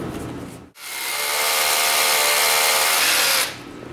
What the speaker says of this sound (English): And when you use these, you drill in, then pull up, because you've got to bring a lot of the dust out.